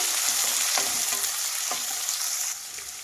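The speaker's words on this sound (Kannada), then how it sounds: "ಈಗ ಕ್ಯಾಪ್ಸಿಕಮ್ ಹಾಕ್ತಾಯಿದ್ದೀನಿ, ಹಚ್ಚಿರೋ ಅಂಥದ್ದು. ಇದನ್ನು ಫ್ರೈ ಮಾಡಿ." Chopped capsicum frying in a pan for a capsicum peas bath, a steady loud sizzle with faint scraping stirs, heard alone without talk.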